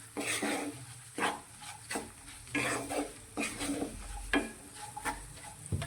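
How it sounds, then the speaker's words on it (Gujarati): Spices are stirred into hot oil in a pan, giving a soft sizzle broken by repeated scraping and clinking strokes of a spoon against the metal, close and fairly quiet. "બધા જ મસાલા સાથે મિક્સ કરી લઈશું"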